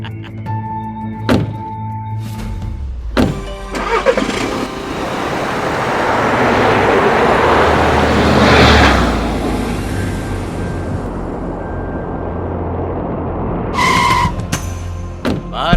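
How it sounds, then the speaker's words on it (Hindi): A car is boarded and driven off: several sharp door-like thuds, then a rising engine and road rush that swells loudly and fades, followed by more clunks, with no clear speech. "विवेक, चल बैठ जा गाड़ी में जल्दी।"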